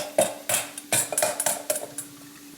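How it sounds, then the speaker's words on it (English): Eggs cracked and split between a mixing bowl and a small bowl, giving a string of sharp clinks and taps of shell on bowl rims in irregular rhythm, close and fairly crisp. "use a mixing bowl and a little bowl and separate the egg yolk from the egg whites"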